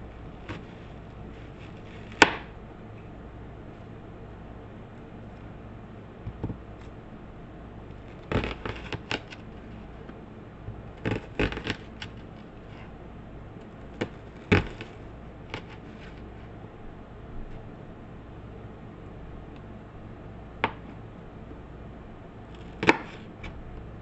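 A knife strikes a cutting board, chopping onions in scattered sharp chops, single cuts and short quick bursts with pauses between them, close up with no talking.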